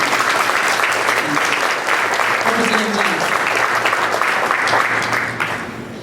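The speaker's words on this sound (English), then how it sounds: "So that alone, I think, is just so worthy of an additional round of applause for him." A hall audience at a public debate on an arena gives a loud, dense round of applause that holds steady for several seconds before tapering off at the end.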